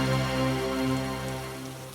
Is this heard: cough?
no